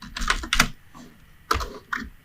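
A computer keyboard is typed on in a few quick bursts of clicky keystrokes, close and clear, with short pauses between them.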